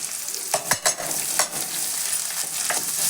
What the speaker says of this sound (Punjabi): 1 ਮਿੰਟ ਆਪਾਂ ਮਿਰਚਾਂ ਨੂੰ ਵੀ ਸੇਕ ਲੱਗਣ ਦਵਾਂਗੇ